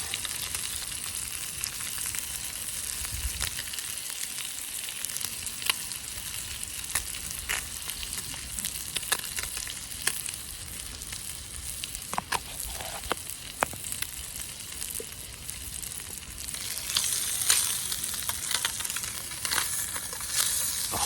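A small bluegill fillet frying in plenty of butter in a stainless steel pan with spices, producing a continuous close crackling sizzle with scattered sharp pops that briefly intensify near the end.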